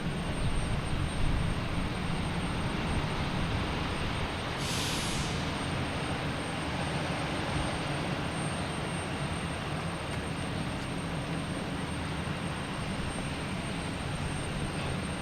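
A Southwest Airlines jet holds at the end of runway 22 right at Boston Logan, waiting to take off: a steady, loud broadband engine roar with low rumble that stays continuous and unchanging, with no talking.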